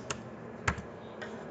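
Three quiet, separate keyboard clicks, a key or two tapped on a computer keyboard with pauses between, close and faint against a soft room hiss.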